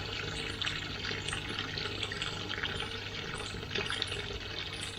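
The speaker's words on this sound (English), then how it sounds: "it's more rain dripping off the trees now" Steady patter of water drops falling outdoors, a continuous soft dripping with a low background hum, no voices.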